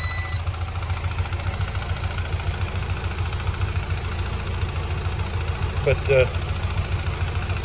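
A Ford Ranger engine idles with a steady low rumble throughout, while a person speaks briefly near the end.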